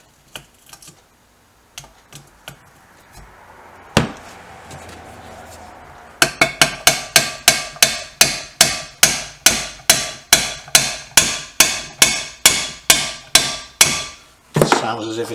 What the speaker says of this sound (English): Just give it another tap.